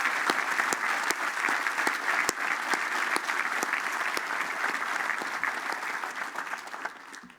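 Audience applause at a school commencement ceremony, many hands clapping steadily for several seconds with a few sharp individual claps standing out, fading away at the end.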